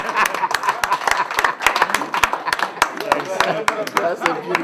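An audience at an innovation workshop claps for a group's prototype, with a quick run of sharp, irregular hand claps under people talking nearby.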